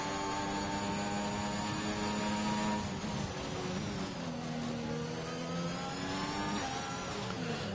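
Race car engines in a racing video game, Canada round of an esports championship, droning steadily behind the safety car with layered whining pitches that rise and fall, loud and continuous throughout.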